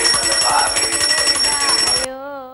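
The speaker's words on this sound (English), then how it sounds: "The ringing of temple bells." Temple bells in India ringing, a bright sustained metallic chime with clanging strikes that ends in a clear fading ring, heard under a narrating voice.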